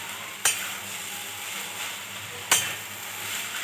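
Papaya with spices cooks in a pan under a steady sizzle, with two sharp knocks of a spoon against the pan as it is stirred.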